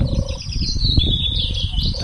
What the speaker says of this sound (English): that is a turtle dove.